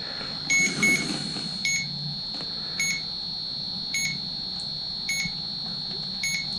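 A computer power supply tester connected to a 24-pin connector emits a continuous high-pitched whine, with short beeps repeating about once a second over it.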